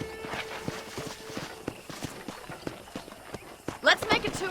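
Horse hooves clip-clop at a walking pace in the Western video game Red Dead Redemption, a steady run of near, soft thuds on a ranch while a voice talks over them and a brighter burst comes near the end.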